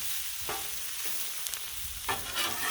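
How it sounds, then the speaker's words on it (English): Rice noodles stir-fried on a Blackstone griddle for beef stir fry, with a steady sizzle and a few scraping spatula strokes, moderately loud and alone. "They're rice noodles and perfect for stir fries. So I'm going to spread it around here."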